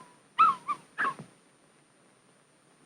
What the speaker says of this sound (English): You mustn't squeeze the puppy or pick her up around her tummy or by the back of the neck.